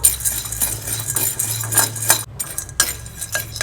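Fried gram (pottukadalai) is roasted in a pan and stirred, producing close, repeated metallic scraping and light clinking of a spoon against the pan in irregular bursts, with no talking.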